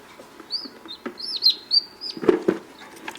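Baby chicks peep in a bathroom in high, short chirps, several birds calling close by in an irregular run of clustered peeps.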